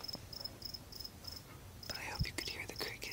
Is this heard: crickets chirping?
yes